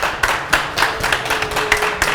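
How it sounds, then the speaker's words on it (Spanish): Studio audience applauding to welcome guests onto a Spanish-language television show, a quick rhythmic run of close hand claps at an even pace, with no talk over them. "Vamos a recibir a nuestros invitados, por favor, con el aplauso de la gente."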